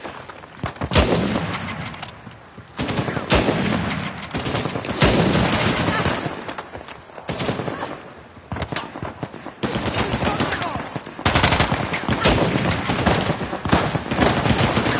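Dense gunfire from the video game Uncharted: The Lost Legacy, with rapid machine-gun bursts and repeated shots filling the scene in loud, continuous volleys and brief pauses, while voices shout over the shooting.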